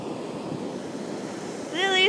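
Ocean surf washes along a beach in Los Angeles as a continuous, moderately loud roar with wind rumble, and a brief high whistling tone near the end.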